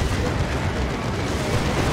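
Stormlord super-heavy tank from Dawn of War 2 firing its weapons in a battle, a dense continuous roar of booming blasts and rumbling explosions that stays loud and unbroken throughout.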